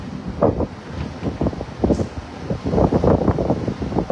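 Strong wind from Typhoon Uwan buffets the microphone in repeated loud gusts and rushing surges, with rustling and a broad roar rising and falling.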